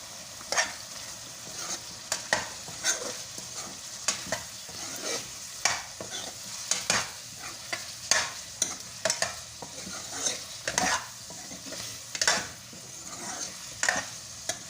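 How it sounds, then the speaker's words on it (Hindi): Spices with dry coriander and turmeric get stirred in a pot, a spoon scraping and knocking in a steady rhythm roughly every second over a soft sizzle, close and distinct with no talking. "इसको अच्छी तरह से मिक्स करेंगे"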